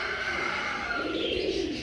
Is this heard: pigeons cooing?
yes